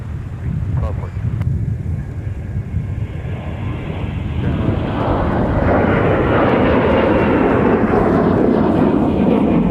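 An airliner engine at MSP airport builds from a low rumble into a loud, broad roar as the aircraft powers up or passes close by, with wind buffeting the microphone.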